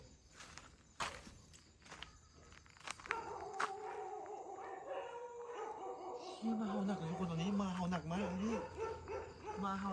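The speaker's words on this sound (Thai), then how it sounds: "หมาก็เห่าจังวะ เห่าอะไรก็ไม่รู้" In a Thai horror game, a dog barks in sharp bursts and then breaks into a long, wavering howl that grows louder toward the end, with footsteps and other game noises underneath.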